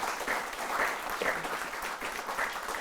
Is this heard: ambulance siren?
no